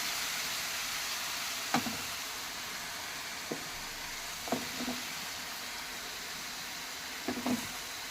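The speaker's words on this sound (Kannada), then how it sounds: "ಈಗ ಟೊಮೊಟೊ ಫ್ರೈ ಆಗಿದೆ ಈಗ ಅದಕ್ಕೆ ಬದನೆಕಾಯಿ ಹಾಕ್ತದೆ" Eggplant and tomato frying together in a pan for vangi bath, a steady close hiss of sizzling oil broken by a few soft clacks of stirring, with no talking.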